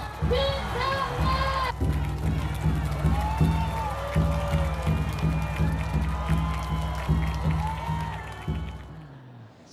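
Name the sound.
crowd cheering at Yoon Suk-yeol campaign rally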